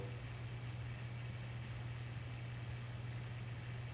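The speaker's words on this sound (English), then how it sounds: "Low's going to run about 100 RPM or so." A 52-inch 1979 Hunter Old Tyme ceiling fan in chestnut brown runs on low speed, a faint steady motor hum with soft even whir and no talk.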